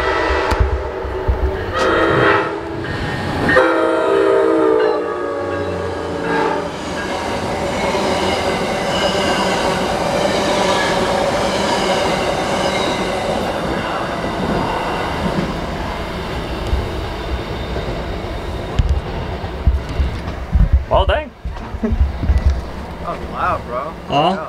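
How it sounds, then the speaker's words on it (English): A train passes loudly close by, its rumble and screeching wheels filling the scene alongside a sustained horn, before the noise thins and breaks up near the end. "There's a train coming."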